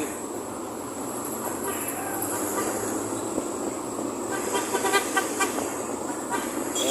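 An LRT light rail train rumbles past nearby, a steady rolling roar with a faint horn-like tone near the end, under busy street ambience.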